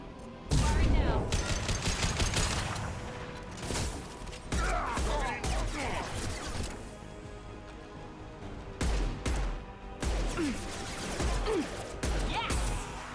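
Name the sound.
gunfire in video game Mass Effect 2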